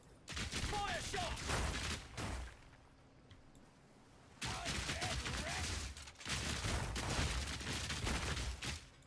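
Crossbow skill shots fire in Path of Exile 2 as dense bursts of rapid impacts and crackling blasts, in three loud volleys separated by short lulls.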